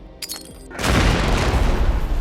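A deep, rumbling explosion bursts in and sustains a loud roar, preceded by a few sharp cracks.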